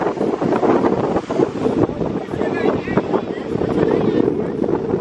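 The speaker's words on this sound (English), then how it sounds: "It's windy. real windy." Strong, steady wind buffets the microphone with a constant broadband roar at a beach, overlaid by faint talk and background murmur throughout.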